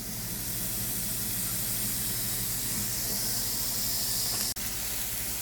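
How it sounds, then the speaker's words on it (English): A big piece of seasoned, olive-oil-massaged meat hisses steadily in a hot pan, a loud, close, continuous sizzle with a brief clank near the end. "I'm gonna take a piece of meat, a big one, and put it on the pan."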